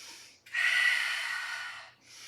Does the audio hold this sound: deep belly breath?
yes